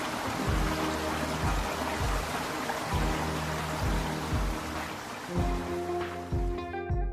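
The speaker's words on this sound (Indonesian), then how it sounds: "gemericik air sungai yang jernih" A clear river babbles through the Daintree rainforest, its steady rushing water filling the whole stretch, with a low rhythmic tonal layer running beneath the flow.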